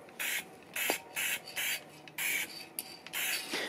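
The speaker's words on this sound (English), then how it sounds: "You can see me doing the short kind of burst spray style here" A Krylon aerosol spray can, clear glaze or fixative, let off in a series of short, evenly spaced bursts, each a sharp close hiss lasting about a third of a second, with quiet gaps between and no talking.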